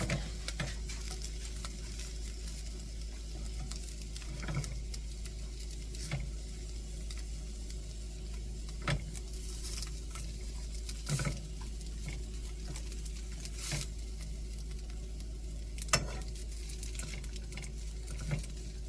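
Pork tenderloin browning in a pan for a slow-cooker dish, giving a steady low sizzle with faint crackles and a few sharper pops, alone with no talk.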